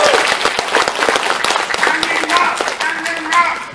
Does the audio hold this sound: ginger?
no